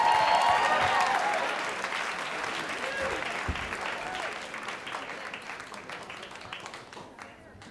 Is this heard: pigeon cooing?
no